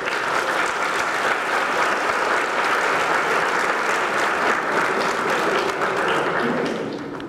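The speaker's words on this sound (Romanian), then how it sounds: "Dacă te-au aplaudat, e de bine." Audience applause fills a government internship program launch event at Victoria Palace, a steady, dense round of clapping that holds loud throughout before tapering slightly at the end.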